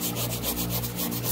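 Steady, rough scrubbing of an acrylic aquarium with coarse material and vinegar, a close, continuous rasping rub with a faintly pulsing back-and-forth rhythm.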